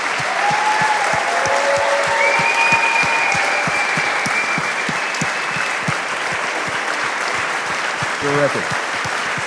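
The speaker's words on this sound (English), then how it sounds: "Let us give you a rousing round of applause." Sustained applause from a luncheon audience honoring Baylor's 2013 and 2014 Big 12 championship football team, a steady, broad wash of many hands filling the room, loud and continuous, with someone briefly speaking over it.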